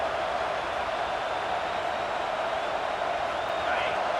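A stadium crowd in EA Sports College Football 26 roars as a steady, dense wall of noise that holds evenly throughout.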